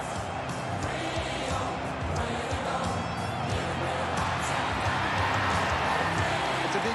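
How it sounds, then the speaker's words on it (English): A stadium crowd at an AFL football match between Richmond and Fremantle keeps up a dense, continuous roar of cheering and chatter, loud and steady throughout with no clear peaks. "the crowd are appreciating it"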